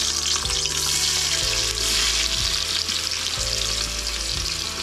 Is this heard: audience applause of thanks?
no